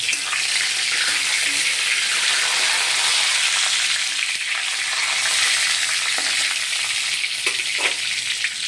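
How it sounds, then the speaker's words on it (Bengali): Cumin seeds, bay leaf and dried chilli sizzle steadily in hot oil, a loud, continuous crackling hiss with a few faint scrapes of stirring toward the end and no talking. "সাদা জিরে, তেজপাতা, শুকনো লঙ্কা ফোড়ন দিয়েছি। এবারে এটাকে নাড়বো।"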